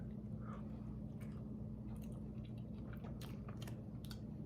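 Someone close by chews bacon cheeseburger shotgun shells, soft wet bites and mastication over a steady low background hum, no talking.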